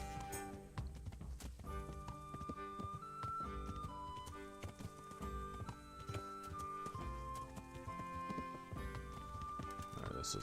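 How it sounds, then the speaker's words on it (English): Horse hooves clip-clop steadily in the video game Kingdom Come: Deliverance, a continuous walking rhythm under a melodic musical score. "Alright, turn the horse around."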